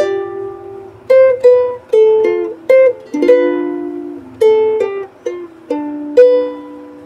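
A song is played fingerstyle on guitar as a slow, clear melody of plucked notes over bass notes, close and alone, with no talking.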